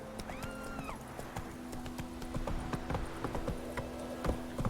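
A horse in The Witcher 3 moves at a brisk clip-clop, its hoofbeats thudding quickly and evenly over a constant ambient drone, with a short whinny-like tone near the start.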